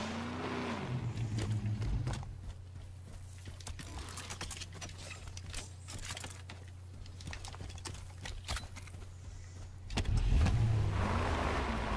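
Warthog vehicle from Halo 5: Guardians driving, a steady low engine drone running throughout with clicks and impacts over it, swelling louder near the end.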